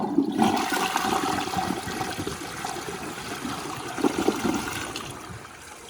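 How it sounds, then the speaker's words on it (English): A VitrA Evergreen front-flush toilet from 2012 does a dry flush, a loud rushing swirl of water that runs steadily for several seconds, close by with no talk. "So we're starting off with a dry flush here."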